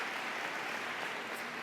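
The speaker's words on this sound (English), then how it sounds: "Let's give a round of applause for those kindergarten teachers" Steady, dense applause from an audience at a school district convocation, honoring kindergarten teachers; continuous, even clapping throughout with no pauses.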